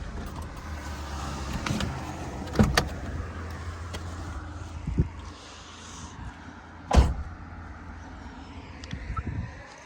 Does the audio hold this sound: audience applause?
no